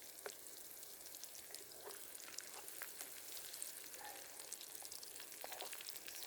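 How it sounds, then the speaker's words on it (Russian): Onions fry in plenty of oil, a steady bright sizzle with scattered crackles and pops, close and continuous without talking. "Когда много масла, лук он как во фритюре становится такой."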